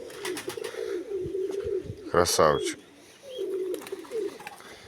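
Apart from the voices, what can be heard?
pigeons cooing in a yard dovecote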